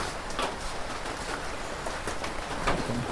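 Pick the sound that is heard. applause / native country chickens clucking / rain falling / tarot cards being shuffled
rain falling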